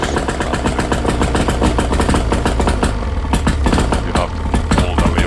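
An old Yamaha 55BE outboard motor, first started after years idle, runs loud and close with a rapid, rough, pulsing engine chatter that holds steady throughout.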